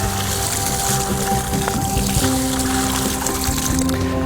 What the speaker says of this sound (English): And then I'm going to give it a nice drink of water.